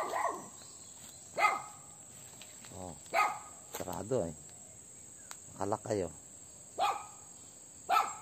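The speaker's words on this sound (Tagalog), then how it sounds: "Mag-ingat sa aso." Dogs bark in short separate bursts along a forest road, fairly close, over a steady high insect chirr, with someone talking briefly between barks.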